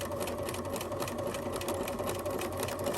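Close, continuous hum of a sewing machine backstitching across a drawstring bag strap, steady and unbroken throughout, with no voices.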